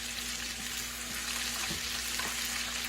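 Chicken strips frying in very hot grease, a steady dense sizzle and crackle throughout, close and continuous with no talk.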